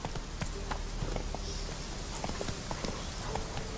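Roach the horse's hooves clip-clop steadily at a walking pace in The Witcher 3, close and distinct over a constant ambient game soundscape.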